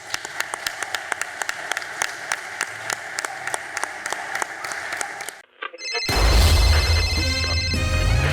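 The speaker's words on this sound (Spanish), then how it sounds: "que es con un fuerte aplauso." Steady rhythmic clapping from a crowd at an event about a labor union, with distinct regular claps, then breaks off into a brief pause before a loud musical passage with ringing tones begins.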